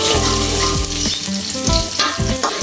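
Shallots sauté in a pan for a chicken tongseng, a steady loud sizzle of frying with occasional stirring scrapes throughout, no voices.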